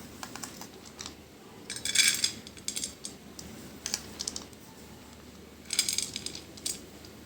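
Washed masoor lentils pour into a kadai in a few short gritty rattling bursts, fairly faint and close, separated by quiet pauses.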